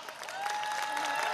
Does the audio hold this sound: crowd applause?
yes